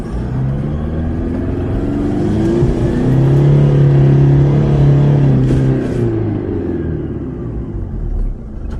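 A 4WD vehicle crawls along a sand track in low range second gear with traction control off, its engine droning loudly and steadily with a rising swell of revs in the middle before easing back.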